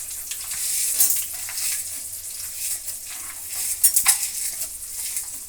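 Chana dal and urad dal frying in oil with curry leaves for a wedding-style vangi bath gojju, a steady close sizzle with occasional stirring scrapes and light clinks of a utensil against the pan.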